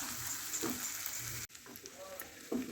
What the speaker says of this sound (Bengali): দেন আমি মশলাটাকে ভালো করে কষে নিচ্ছি।